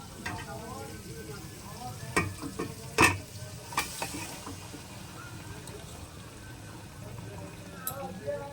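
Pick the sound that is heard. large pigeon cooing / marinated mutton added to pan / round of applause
marinated mutton added to pan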